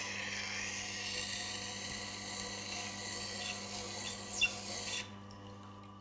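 A metal blade ground on a Tormek diamond wheel, a steady close rasping scrape over a low motor hum that stops abruptly near the end.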